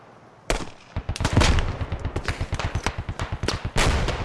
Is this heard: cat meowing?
no